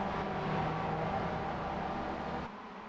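Mazda MX-5 race cars at Mosport in the BSR MX5 Summer Cup sweep through the final corner, a steady loud engine roar and whir that holds for a few seconds, then drops off suddenly near the end.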